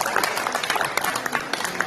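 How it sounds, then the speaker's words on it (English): Short burst of dense applause from a crowd at a high school signing day, steady and close. "Let's give him a round of applause."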